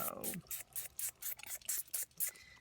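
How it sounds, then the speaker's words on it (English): Rapid hissing bursts from a spray bottle of homemade spray onto paper, about a dozen short pumps in a steady rhythm, close and fairly quiet. "I'm just going to spray some of these down within that same color palette"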